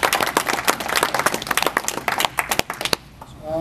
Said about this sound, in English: you guys deserve a lot of applause